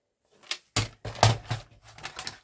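Paper trimmer slicing card-stock background paper for a mushroom folio, heard as a few short, sharp cutting strokes and clunks in quick succession, close and fairly quiet, with no talking.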